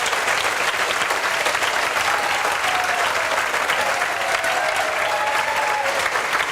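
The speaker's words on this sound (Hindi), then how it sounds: "ये जोरदार ताली बजाओ।" Loud, continuous applause from students in a coaching centre classroom, a dense unbroken wall of clapping that stays at full strength throughout.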